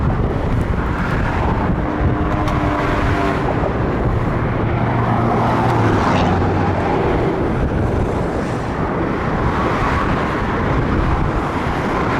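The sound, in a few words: highway traffic on the I-10 in Phoenix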